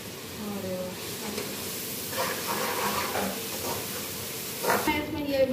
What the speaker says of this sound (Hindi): मसाला डाल रही हूँ